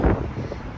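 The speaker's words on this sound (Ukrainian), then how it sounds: "холодний вітер," Cold wind blows with a low, steady rumble against the microphone, gusting briefly at the start, beside the water in Prague.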